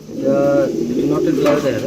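Lahori Sirazi pigeons at a Bangladeshi pigeon seller's, soft throaty cooing repeated close by, mixed with low voices talking.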